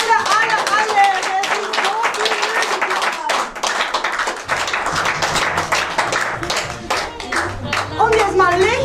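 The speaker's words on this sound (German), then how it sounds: "Und natürlich haben Sie Applaus verdient" Concert-goers at a pre-Christmas music school concert in Berlin applaud with close, crisp, dense clapping that continues steadily, while voices talk over it at times.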